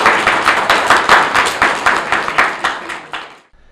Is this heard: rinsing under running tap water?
no